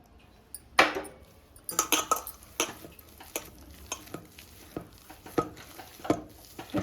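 Gulab jamun dough is mixed by hand in a bowl, making soft squelching and light tapping noises in an uneven, steady rhythm after one louder knock near the start.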